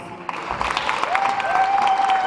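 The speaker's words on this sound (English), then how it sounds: "Please give her a round of applause." Audience applause at a pageant, steady moderate clapping from a crowd, with a faint pitched tone gliding in partway through and hanging underneath.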